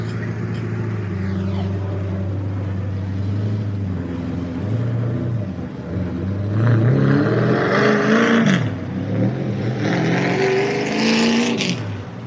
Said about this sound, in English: We'll let our race car go here and then we'll do it.